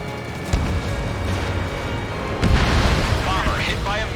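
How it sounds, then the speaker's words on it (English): A missile striking a bomber in the Ace Combat 7 flight game, two loud booming blasts a couple of seconds apart over a roaring jet drone, with radio voices chattering. "Bomber hit by a missile."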